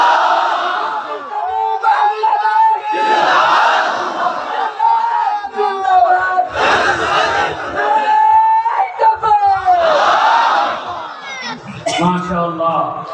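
A large crowd at a religious gathering chants the Allahu Akbar slogan in loud, rhythmic bursts of massed voices, swelling and repeating several times with a lead voice calling between.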